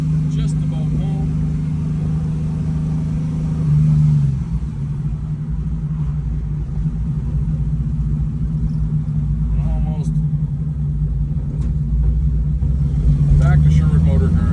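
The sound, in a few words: car engine driving and accelerating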